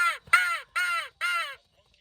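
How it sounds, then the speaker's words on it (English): A crow gives four loud, harsh caws in quick succession, close by and alone, each call drawn out and raspy before falling silent. "Monkey heard the crow."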